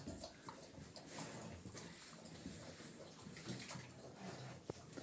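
Water pours and splashes into a pig's container, a steady close-up gush with a few small knocks.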